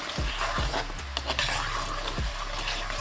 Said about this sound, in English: give that a mix and let it simmer for a minute